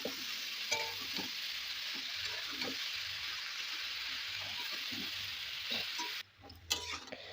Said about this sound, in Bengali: ভালোভাবে নেড়েচেড়ে সব কিছু মিশিয়ে নেব।